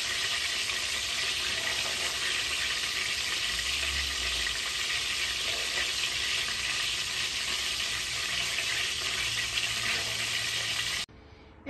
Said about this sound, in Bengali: পেঁয়াজ বেরেস্তাগুলো রেডি হয়ে গেছে, এখন আমি নামাই নিব।